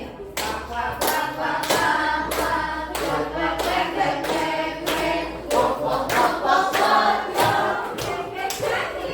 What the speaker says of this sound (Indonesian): Tepuk tangan biar temennya.